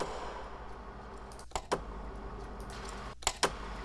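Film reel running with no processing, a steady broadband hiss like white noise punctuated by a few sharp mechanical clicks and ticks, close and alone with no talking.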